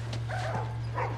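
A few short puppy barks and yips from The Last of Us, close and fairly clear over a steady low hum, with a soft whimper among them.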